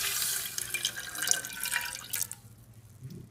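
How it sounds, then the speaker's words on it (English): Pickle juice pours from a container into a barbecue sauce mixture in a backyard kitchen, a close, trickling liquid stream that splashes briefly and then tapers off to near quiet. "Go ahead and add some pickle juice."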